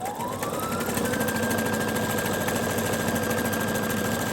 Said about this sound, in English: Automatically sews it for you.